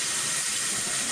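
Water runs steadily from a sink tap in an apartment studio, a continuous close, loud splashing hiss with no talking.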